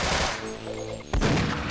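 Gunfire in the co-op shooter Sven Co-op, a dense burst of shots that swells again near the end, heard loud and close against steady game background noise.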